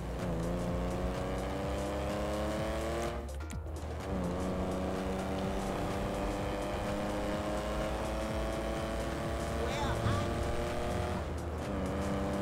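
A car in GTA V drives fast with a loud, steady engine drone that rises in pitch, briefly broken by a sharp scrape or impact mid-way and another near the end; engine stays close and dominant throughout.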